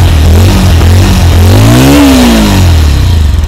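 Close by, the engine of a Bajaj Avenger 160 Street motorcycle is revved from idle. The pitch climbs to a single peak and falls back toward idle, loud and with no talk over it.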